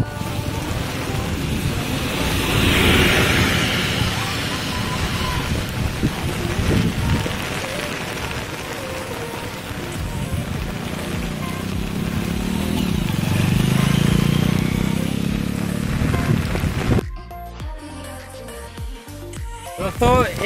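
Steady heavy rain hisses throughout, loud and close, during flooding, with a vehicle rumbling in the middle; a voice speaks over it.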